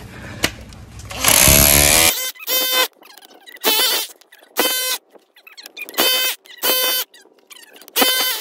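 A Makita power tool grinds into hard yard ground in a series of loud, whining bursts, each about half a second long, separated by short pauses.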